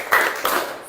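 Several people clap together in a salute at a school gathering, two or three quick, bright claps close by.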